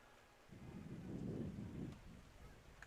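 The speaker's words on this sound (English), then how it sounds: "you can hear the rain just pelting the bleachers here" Rain pelting metal stadium bleachers at a night high school football game, a steady broad hiss that swells in the middle and eases off, with a faint far crowd murmur.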